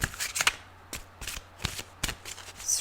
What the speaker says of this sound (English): That I don't spend so much time shuffling.